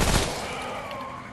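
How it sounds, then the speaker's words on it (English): Gunfire in the game Remnant: From the Ashes, a single sharp burst at the start that decays into a fading reverberant tail over about a second. "Just keep shooting."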